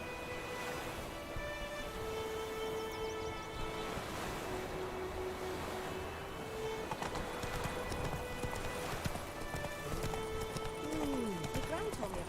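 Roach, Geralt's horse in The Witcher 3, runs across open ground with quick rhythmic hoofbeats and an occasional whinny. The sound is quiet and distant, with surf-like ambience and speech over it.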